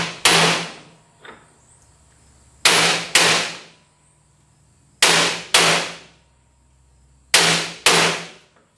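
A hammer strikes a socket to drive a bearing home on a New Holland 630 baler, landing sharp metallic blows in close pairs with pauses between them, four pairs in all, close and loud.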